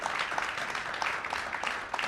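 Brief, fairly quiet applause from an audience at an innovation week kick-off event in Calgary, a short patter of scattered claps lasting about two seconds.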